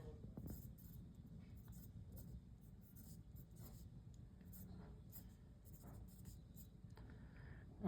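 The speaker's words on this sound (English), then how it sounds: "So I'm just gonna write that here." A pen scratching steadily across paper at close range, soft and continuous strokes with small taps, faint in a quiet room while someone works through a chemistry calculation.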